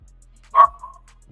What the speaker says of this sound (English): I know the dog barking